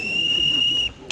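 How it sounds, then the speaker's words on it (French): A single sharp referee's whistle blast, held steady for just under a second and loud against a quiet background. "le coup de sifflet tant redouté intervient"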